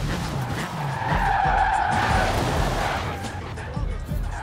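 A Toyota Trueno in a Forza racing game skids with steady tire screech over its revving engine, the sound loud and continuous for a few seconds, with a person talking over it.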